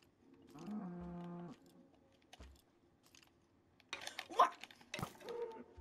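A Minecraft cow lets out a low moo near the start, followed by clicks and bursts of game noise while a player talks.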